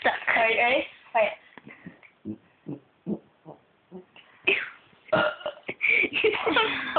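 Repeated short, deep burps from a girl, about eight in a row, bracketed by chatter and laughter from people nearby.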